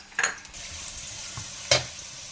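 Chopped onion frying in ghee in a home kitchen pan, stirred until light brown: a steady soft sizzle with two brief scraping stir strokes near the start and end, no talking.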